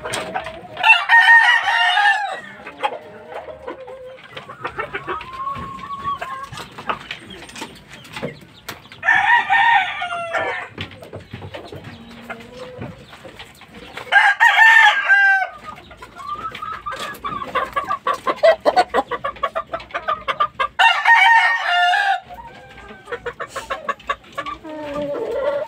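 A Lemon Sweater fighting rooster crows loudly and close several times, each long cock-a-doodle-doo spaced several seconds apart, with steady clucking and low chatter from the bird filling the gaps.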